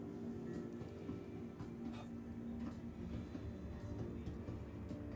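A tram pulls in within a multiplayer space video game, a steady low rumble with faint rhythmic clicking and a sustained mechanical hum, moderately quiet with no speech.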